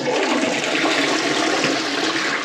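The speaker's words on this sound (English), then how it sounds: "When you flush the toilet or put any water down it," A Saniflo toilet flushes nearby with a loud, rushing gush of water that continues steadily throughout.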